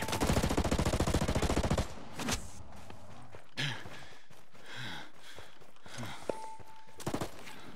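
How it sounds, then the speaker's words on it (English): Rapid machine-gun fire in a video game, a loud dense burst lasting about two seconds, followed by scattered single shots, footsteps and a brief electronic tone amid quieter game sounds. "I hear gunfire."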